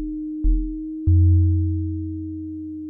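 A layered Waldorf Blofeld synthesizer patch: a steady pure tone holds throughout while a deep bass layer enters twice, the second entry swelling loudly and then slowly fading beneath the sustained pitch.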